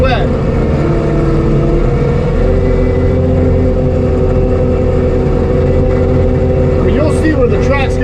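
Mega Mower X tracked mower running steadily through tall wet grass, a loud continuous engine drone with a constant low hum throughout and a brief rise near the end, recorded up close.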